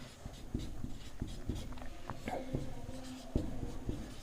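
Pen scratching across paper while a Class 10 trigonometry solution is written out, with short, close strokes repeating in an uneven rhythm.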